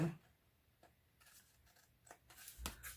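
Scissors snip off the paper side flaps of a handmade gift bag shaped like a handbag, cut from floral collage paper, giving faint close crisp cuts that grow busier and louder toward the end.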